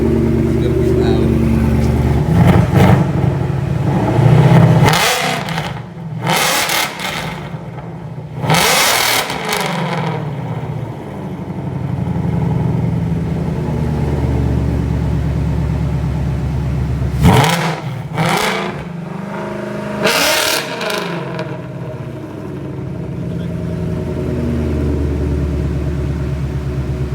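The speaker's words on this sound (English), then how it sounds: "Now we're gonna get our first rev. I gotta hold my ears, guys. It's gonna be loud." A 2018 Ford Mustang GT V8 with a fault is revved hard several times, loud throttle blips and roaring surges with falling decays in between, close up over a rumbling idle.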